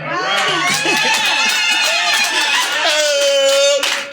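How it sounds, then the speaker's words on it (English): An audience at a live performance at Harlem's New Amsterdam Musical Association applauds steadily and loudly, the dense clapping mixed with crowd chatter and voices right through, swelling toward the end. "keep your applause up because you're bringing N.A.M.A back"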